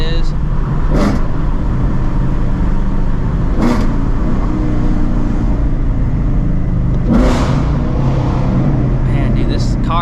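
A straight-piped Shelby GT350 accelerates in heavy rain during a thunderstorm, its engine rumbling steadily with a few brief surges of revving over a constant hiss of rain.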